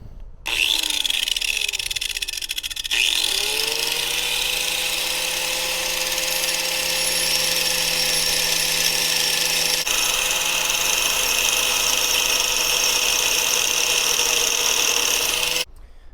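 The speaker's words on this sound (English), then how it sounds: "take your grinder. grind it off a little bit." Angle grinder grinding down a metal ring for an O2 sensor job on a 2008 Nissan Versa, a loud steady high whine that spins up, holds continuously for about twelve seconds under load, then cuts off.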